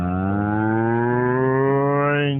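A cow moos once, close and loud: a single long, low, drawn-out call that holds steady and ends abruptly, with nothing else heard.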